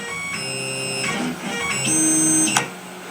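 Tormach CNC mill jogged with a jog shuttle wheel, giving stepped whining motor tones that rise and shift in pitch over a few seconds, close and steady, ending with a brief click.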